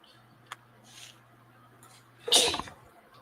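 A single sharp, close sneeze bursts out near the end after a near-silent stretch with a faint click, no one speaking.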